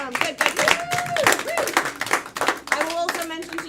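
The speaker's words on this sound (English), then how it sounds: "Yeah, clap for them." Audience hands clapping in quick, uneven bursts as two volunteer players come up at a live game event, with someone talking over the applause.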